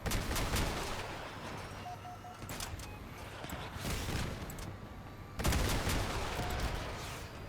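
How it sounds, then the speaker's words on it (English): Dense bursts of gunfire in the vehicle combat game Crossout pound the player's armored build, sustained loud volleys with a sharp new barrage near the end. "The hell am I getting shot by?"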